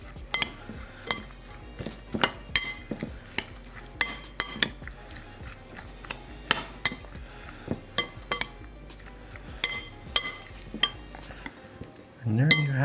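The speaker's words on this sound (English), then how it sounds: "Give this a little stir." Mango pico de gallo salsa with lemon juice is stirred in a bowl, a spoon scraping and clinking against the sides in a steady run of sharp taps and swishes, close and alone, ending with a louder clatter.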